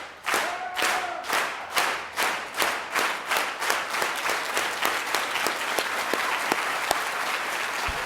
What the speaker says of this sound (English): We all know how we do the clap together